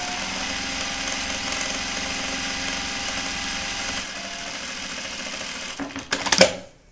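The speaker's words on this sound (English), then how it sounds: "I'm just stitching the edges of my belt loop" Sewing machine stitching the edges of a jeans belt loop, a steady mechanical whirring hum running continuously, then a few brief clatters and clicks as it stops near the end.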